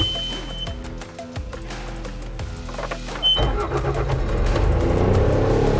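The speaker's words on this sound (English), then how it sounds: "Start the engine." A Bobcat machine's engine cranks and catches, a low rhythmic chugging giving way to a louder, steady rumble as it settles into running, close and continuous throughout.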